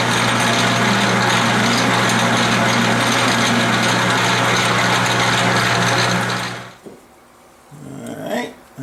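A drill bores a 1-inch hole, enlarged step by step from 1/4 inch, in the hub of a grinding wheel balancer, giving a loud, steady mechanical whine with a grinding edge that winds down and stops near the end.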